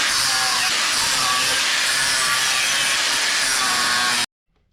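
A saw cuts off overlong bolts on a 1979 Jeep CJ5 during a transmission mount and axle repair, a loud continuous rasping grind that runs steadily for about four seconds and then stops abruptly.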